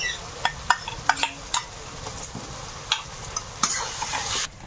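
Onion with turmeric, salt and ginger garlic paste frying in a pan gives a quiet, steady sizzle broken by repeated close clinks and scrapes of a spoon stirring against the metal.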